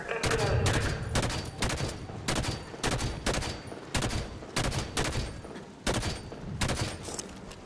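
Halo 5: Guardians gunfire on the Escape mission, a loud run of about a dozen evenly spaced heavy shots or short bursts, close and punchy, with faint voices underneath.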